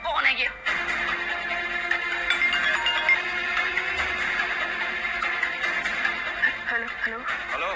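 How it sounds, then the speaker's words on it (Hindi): A mobile phone rings with a repeating electronic melody, fairly close and steady throughout, while people talk over it. "इस लड़की का ना फोन बंद नहीं होता।"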